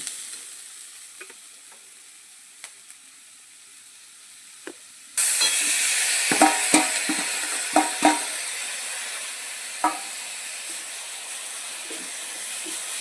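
Onions and tomatoes for anda ghotala, a Mumbai street food dish, hiss and sizzle in a hot pan, the frying suddenly louder partway through, with a spoon clanking and scraping at irregular moments, close up.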